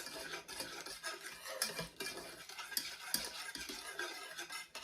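Self-rising flour and powdered ingredients for a grandmother's chocolate pie being stirred together in a bowl, a spoon scraping and tapping against the sides in quick, uneven strokes, close and moderately loud with no talking.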